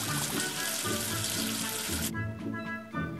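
Running water rinsing soap off a figure in a children's number game, a loud steady gushing splash like a tap that cuts off abruptly after about two seconds, leaving a quieter watery tail.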